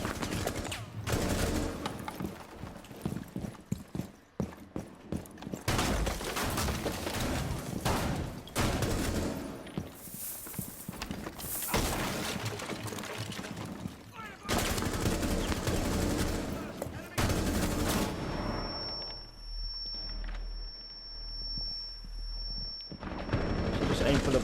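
Automatic gunfire from Rainbow Six Siege rattles in long, rapid bursts across most of the stretch, broken by short pauses, with a steady electronic tone near the end.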